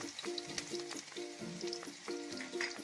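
Green chili sizzling in hot oil in a pan with chopped ginger and garlic, a steady close crackle with light stirring knocks throughout.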